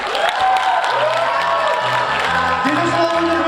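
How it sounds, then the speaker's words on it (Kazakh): An audience applauds steadily at a comedy team performance, a dense, sustained clatter of clapping heard together with music. "Шапалақтап отырыңыздар"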